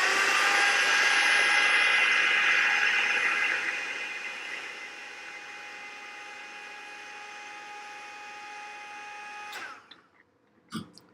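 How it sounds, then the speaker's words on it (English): A heat gun blows hot air to shrink heat shrink tubing over a wire joint, a loud steady roaring hiss that drops to a softer whoosh, then cuts off with a few sharp clicks and handling knocks. "when you apply hot air to the heat shrink tubing, they just blow like a regular old heat gun"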